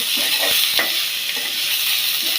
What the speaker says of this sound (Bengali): পেঁয়াজ কুচি দিয়ে দিলাম, এবং হালকা ভেজে নিলাম।